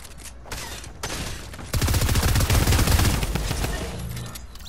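Rapid submachine gun bursts in a Fortnite arena match, dense and loud, swelling into sustained fire midway through the clip with no talk over it.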